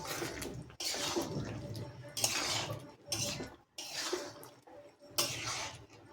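Chicken feet being stirred in a pan, heard as repeated close scraping and rustling strokes in rhythmic bursts separated by short gaps.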